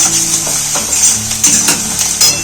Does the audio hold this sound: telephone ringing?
no